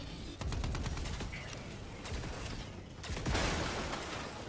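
Video game gunfire rattles in rapid bursts of sharp shots, with a fusillade of automatic fire that keeps starting and stopping, loud and close, with a faint voice in the background.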